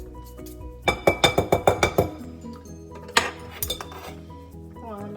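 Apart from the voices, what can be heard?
spoons being scraped clean of almond cake batter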